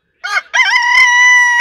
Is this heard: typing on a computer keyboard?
no